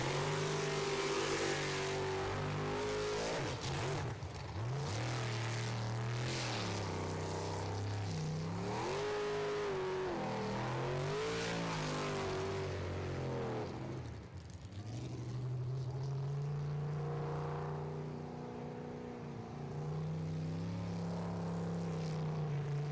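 A Bandit Racing sprint boat engine revs hard on a final qualifying run at Port Angeles, Washington, a loud, close roar that climbs and drops in pitch through repeated throttle surges, then settles into a steady high drone.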